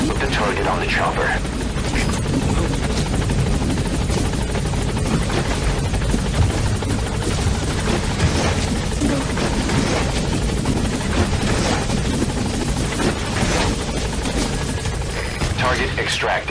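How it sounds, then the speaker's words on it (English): A helicopter in Metal Gear Solid V: The Phantom Pain thrums loudly and continuously, mixed with bursts of gunfire and voices speaking throughout. "Put the target on the chopper."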